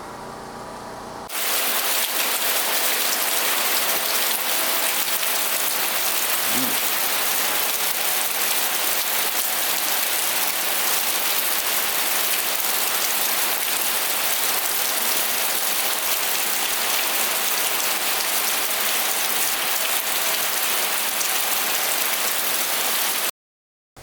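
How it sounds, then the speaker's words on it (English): Steady rain pattering on the surface around a hunting cabin during a multi-day camp, a dense continuous hiss with no voices, starting abruptly after a brief quiet moment and running evenly throughout. "it's day number 3 and it's raining again"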